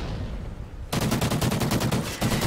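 Rapid automatic gunfire in the video game Call of Duty: Ghosts, a dense rattling burst that starts abruptly after a quiet moment and continues loud and steady for over a second and a half.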